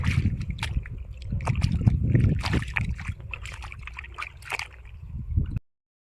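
Muddy sandals being rinsed in water outdoors during heavy rain, with close sloshing, splashing and trickling that rise and fall in uneven bursts before stopping abruptly.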